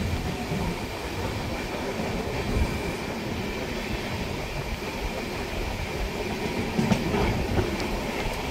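Tamralipta Express rolling along the rails near Tamluk, a steady loud rumble with faint rhythmic clacking and occasional metallic squeals throughout, recorded from on board.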